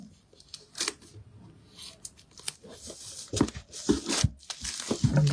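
Scissors cutting open a package of papercraft supplies, a string of sharp snips, crinkles and tearing rustles that grow busier and louder toward the end, with no talk over them.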